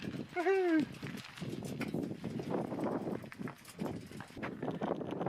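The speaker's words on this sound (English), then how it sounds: "It's too windy out here." Gusty wind buffets the microphone, rumbling and roaring throughout, with a brief tonal whine near the start and people speaking underneath.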